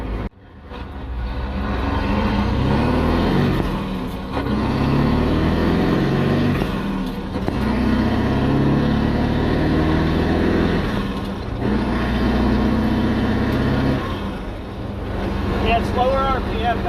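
A CAT 3208 turbo diesel fitted with a Thai-style howl pipe revs hard in loud, sustained surges that rise and ease off in repeated waves, close and continuous.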